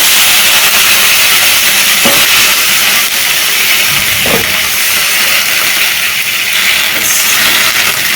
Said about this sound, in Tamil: இந்த காயெல்லாம் போட்டு வதக்கிக்கலாம்.